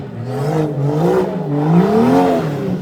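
A BMW engine revs close by as the car winds up to do spinnies. The engine note rises, dips and climbs again with a steady whirring drone, and no one speaks over it.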